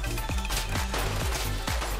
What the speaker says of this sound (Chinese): 这涉及的这个音效都是鞭炮声啊